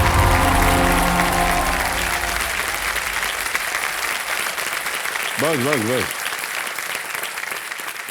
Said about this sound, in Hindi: इतनी जोर से ताली बजाया आपने